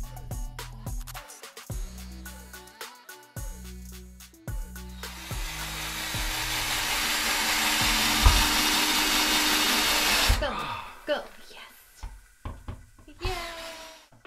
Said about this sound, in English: we are ready to unscrew the next screw